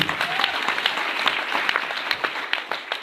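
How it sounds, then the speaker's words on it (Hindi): Dense, steady audience applause at a DXN company gathering honoring a professor, many hands clapping continuously and fairly close throughout. "जोरदार तालियां की।"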